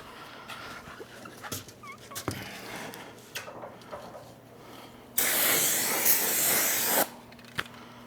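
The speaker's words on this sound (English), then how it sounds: "I'll get this new rotor sprayed off. I'm just going to clean this up." Brake cleaner hisses from an aerosol can in one loud, steady burst of about two seconds, washing down a new rear brake rotor on a Toyota Highlander in a quiet garage, with scattered clinks before and after.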